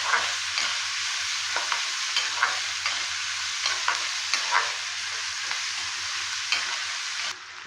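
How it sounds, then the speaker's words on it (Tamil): Onions frying in a pan for poha upma, a loud, dense, continuous sizzle with occasional soft stirring scrapes, close up with no voices, cutting off abruptly near the end. "இப்போ வெங்காயம் சேர்த்தாச்சு. இது கொஞ்சம் வறுக்கணும்"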